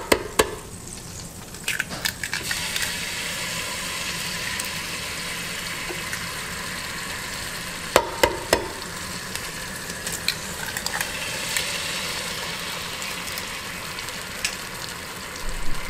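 Eggs frying in steak drippings inside a Ninja Speedi, a steady soft sizzle running throughout with a few brief clatters and clicks near the start and around the middle, no voices.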